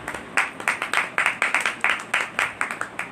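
A congregation at a prayer meeting in a Karachi neighbourhood claps for the name of Jesus, fairly rhythmic hand claps repeated in a quick even beat from a group, close and clear.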